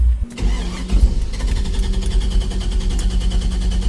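A pickup truck engine cranks briefly and catches, then settles into a loud, close, lumpy idle with a steady low throb, no voices over it.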